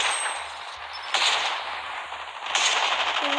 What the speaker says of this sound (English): I'm just shooting everything